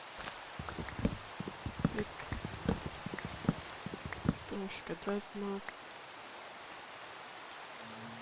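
Rain falls in a survival video game, a steady patter with scattered drop hits, under someone talking in Polish and a few short tonal game sounds.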